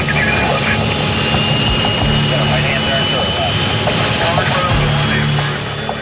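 Spanair airliner jet engines at takeoff on runway 33 right, a steady loud roar with a high whine above it, heard from inside the aircraft under talk.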